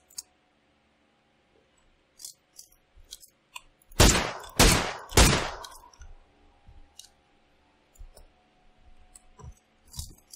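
Gunfire in the shooter game PUBG Lite: three loud, sharp bursts in quick succession stand out over scattered quieter clicks and taps before and after.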